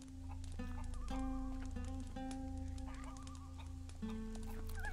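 Chickens cluck around a farmyard in the video game Gothic 3, with several short clucks scattered over a steady tonal game soundscape. The calls are moderately close and continue throughout.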